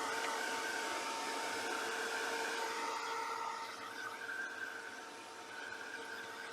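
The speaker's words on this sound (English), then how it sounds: "So let me just dry this off a little bit, this gesso" A hair dryer blows steadily and close as it dries gesso on a handmade paisley card, its airy whir holding constant throughout and dipping slightly near the end, with no talking.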